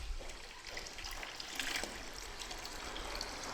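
Spring water trickles and splashes into plastic canisters at a public spring in the Black Forest, Germany, a soft continuous burbling stream heard fairly quietly.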